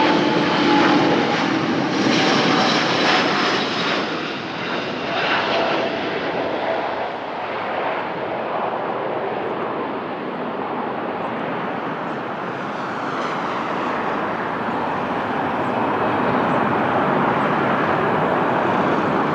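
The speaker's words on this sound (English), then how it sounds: "Wow, really nice takeoff" Embraer KC390 military transport of the Portuguese Air Force taking off at Lisbon, heard from inside the cockpit: a loud, steady engine roar with broadband rush that builds and holds throughout, with no talk.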